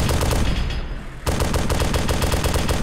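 Rapid automatic gunfire in the Arma 2 Wasteland mod, loud continuous bursts of closely spaced shots with a brief pause partway through before firing resumes.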